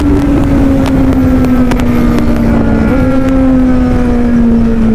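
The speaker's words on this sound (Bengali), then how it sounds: "দুটো C9 এর রেস হচ্ছে দেখো ভাই।" Two motorbikes, apparently Kawasaki machines, race past on a road, their engines droning loudly and close with a steady high whine that shifts slightly in pitch, wind buffeting the microphone.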